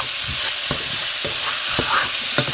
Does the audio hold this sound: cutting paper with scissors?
no